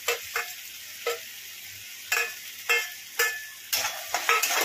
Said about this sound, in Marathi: हिरवी मिरची घालून 2 मिनिटं फ्राय करायचे, जास्त भाजायची नाही हिरवी मिरची